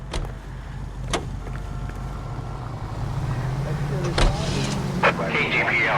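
A car engine in L.A. Noire drones steadily with low rumble, a few sharp clicks and thumps over the top, and faint voices underneath.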